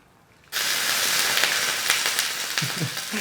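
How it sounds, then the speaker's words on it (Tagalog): A sudden loud sizzle and hiss bursts in after a short quiet, crackling steadily with sharp pops, close and continuous. "Yan ang mangyayari pag may tumalsik na tubig sa lutuan mo. Yan yung tunog."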